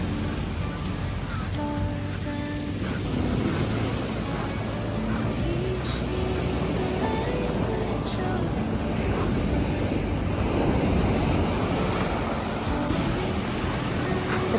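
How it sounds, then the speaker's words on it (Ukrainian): Strong sea waves roll onto a beach on Lefkada, Greece, a steady broadband roar of surf with wind buffeting the microphone, continuous and fairly loud throughout. "хвилі доволі сильними були"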